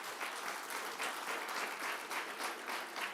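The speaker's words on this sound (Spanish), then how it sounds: "¿Cuánto le dan un aplauso a Jesús?" A church congregation applauds during a sermon, a steady, moderately quiet wash of many hands clapping together with a faint pulsing rhythm throughout.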